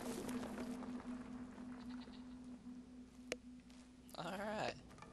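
Goats in Brothers: A Tale of Two Sons let out a quiet wavering bleat near the end, over a low steady hum, soft game sounds and a brief click.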